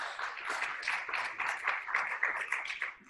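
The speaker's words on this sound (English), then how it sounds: "There was a lot of clapping here for you" Audience applause at a surgical conference session: dense, steady clapping from a crowd, moderately loud and continuous throughout, with no voices over it.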